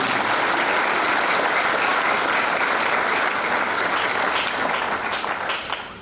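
A church congregation at an Easter service in Goma claps loudly and steadily, a dense wash of applause filling the space throughout before easing slightly at the end.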